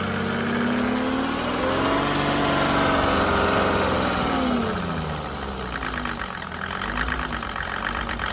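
A Mercedes OM606 diesel engine with electronic injection pump driving a PN-40 motor pump drones steadily close by, its pitch rising and falling as it speeds up and slows, with no talking.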